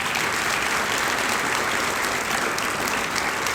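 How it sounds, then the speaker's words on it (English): Sustained audience applause at a high school senior breakfast, dense steady clapping from a large crowd, loud and continuous with no break. "Let's give this group another round of applause."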